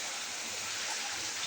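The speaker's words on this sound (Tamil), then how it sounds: "2 மணி நேரம் சரியான மழை" Heavy rain pours down steadily, a dense and loud broadband hiss that continues unbroken, with no talking and no other sounds standing out.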